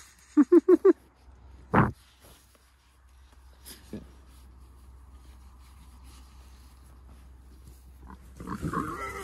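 A quick run of four short pig grunts, then a louder single grunt, followed by scattered quieter snuffles and rustling against a low hum.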